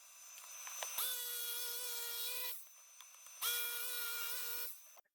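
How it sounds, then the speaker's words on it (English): A jigsaw cuts through scrap wood in two loud, whining bursts of about a second and a half each, separated by a brief quiet pause, close to the listener. "this is where I use the jigsaw to cut this out"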